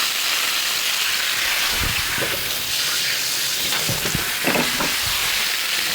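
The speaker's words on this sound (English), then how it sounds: "we're just going to saute this up for about 2 to 3 minutes" Bacon searing bacon side down in a pan, a continuous bright hiss of sizzling with some lower bumps and clatter partway through, no talking.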